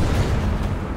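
A heavy, booming impact as a tank shell strikes an IS-6 heavy tank in the War Thunder tank battle game, a dense, loud, rumbling roar filling the whole moment without speech.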